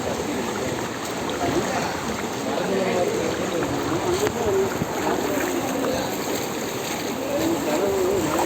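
Floodwater rushing and sloshing around a vehicle being pushed through a deep flooded road during heavy rain, a continuous watery churn with people talking over it.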